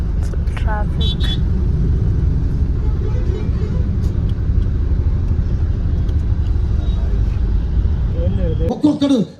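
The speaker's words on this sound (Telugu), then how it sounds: "ట్రాఫిక్" Road traffic rolls past on a busy road, a steady close rumble of engines and tires that fades out abruptly near the end, with faint voices now and then.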